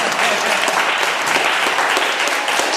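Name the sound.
congregation applauding Jesus at an evangelical forum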